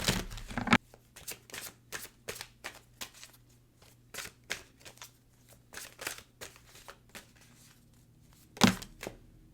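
Tarot cards shuffled by hand and pulled from the deck, a fast run of crisp papery riffles and taps in uneven rhythm, close and fairly quiet with a couple of sharper slaps.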